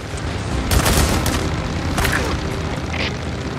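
Enemies fire guns at the player during a Days Gone gameplay fight, with dense, loud bursts of gunfire and booming shots running continuously and overlapping, heaviest early on.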